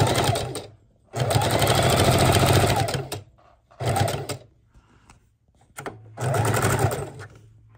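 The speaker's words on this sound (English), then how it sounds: "we're going to go ahead and sew down our snap" A sewing machine runs in three steady bursts while stitching down a snap on a fabric fidget quilt, each burst a loud continuous whir with short quiet pauses between, no talking.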